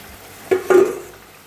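Spice mix being fried in a pan, two short close sizzling and stirring scrapes with a brief hiss that fades quickly.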